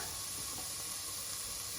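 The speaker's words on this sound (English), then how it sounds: "Now that that's sizzling up" Steady broadband sizzle of food frying in a pan with dried moringa, a continuous hiss with no pauses and no voices.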